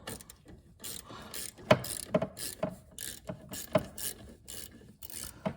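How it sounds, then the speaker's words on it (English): A bolt on a braided brake line of a C6 Corvette is tightened with a ratcheting wrench, giving a series of short, close metallic clicks and scrapes in uneven bursts. "Just got to tighten up this bolt, and ideally you tighten it."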